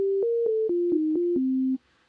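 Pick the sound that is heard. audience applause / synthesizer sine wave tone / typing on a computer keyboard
synthesizer sine wave tone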